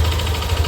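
A Yamaha Aerox V2 scooter engine idles steadily with a low, rough, pulsing rumble and a faint mechanical knock and rattle running throughout, close and continuous.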